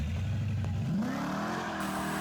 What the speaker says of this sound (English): you're going to hear a muscle car racing off into the